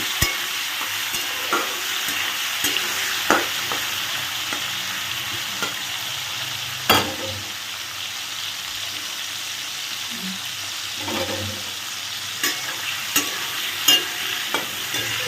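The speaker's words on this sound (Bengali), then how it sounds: "গরম করে নিয়ে চিংড়ি মাছগুলোকে লো ফ্লেমে ভাজবে" Prawns fry in hot oil over a low flame for an old-style Bengali non-veg shukto, sizzling steadily and close, with occasional clinks and scrapes from stirring.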